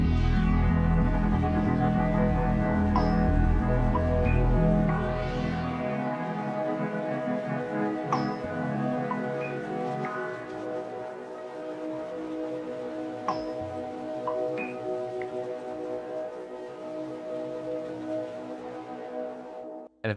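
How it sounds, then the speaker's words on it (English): Soft synthetic string pad from Labs, warped by RC20 tape-style distortion and tape delay, sustained and swelling with a deep low end for the first few seconds, then thinning to airy held tones with faint echoing pings. "It's from Labs. Just another soft string sound,"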